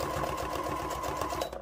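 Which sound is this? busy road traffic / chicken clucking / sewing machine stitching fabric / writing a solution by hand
sewing machine stitching fabric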